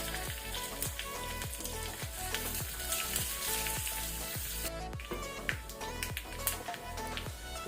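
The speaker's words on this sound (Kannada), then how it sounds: "ಬೆಳ್ಳುಳ್ಳಿ ಕೆಂಪಾಗೋ ತನಕ ಹುರಿಬೇಕು." Garlic and tempering sizzle steadily in a hot pan, a loud close frying hiss with rhythmic stirring taps throughout and no talk.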